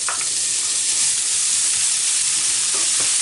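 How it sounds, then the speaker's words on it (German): Bacon sizzles and crackles loudly in hot oil in a frying pan, a dense continuous hiss with no voices over it. "Und da kommt jetzt mein Speck hinein."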